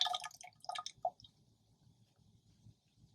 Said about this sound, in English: So pour it in this graduated cylinder.